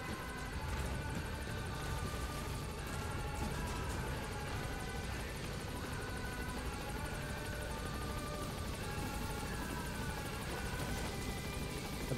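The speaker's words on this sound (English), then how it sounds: "Support helicopter has arrived." A support helicopter in the video game Metal Gear Solid V holds as a steady, loud rotor drone, thumping and whirring without break.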